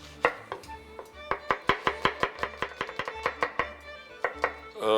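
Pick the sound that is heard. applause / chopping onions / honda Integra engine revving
chopping onions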